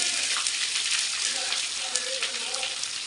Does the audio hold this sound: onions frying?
yes